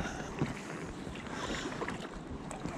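A boat is paddled on Isaac Lake, with soft, faint splashes and strokes against a low wash of wind noise.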